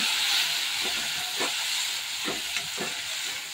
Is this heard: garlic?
yes